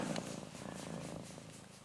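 A close, low rumbling cat purr, steady and soft, continuing throughout with no other sounds.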